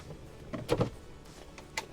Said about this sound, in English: So 5-foot drawer slide there.